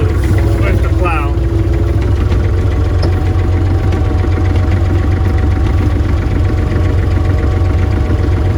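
A 60-year-old diesel tractor fitted with a snow plow runs close by, its loud, steady engine rumble and knock continuing without a break.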